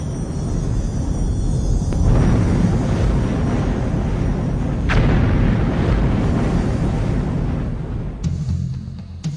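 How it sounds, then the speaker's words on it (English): A sustained, heavy roar of a volcanic mountain erupting rolls on for several seconds, loud and broad, with a couple of sharp cracks cutting through the rumbling blast. "Magnificent mountains explode as a result of the volcanic pressure beneath them."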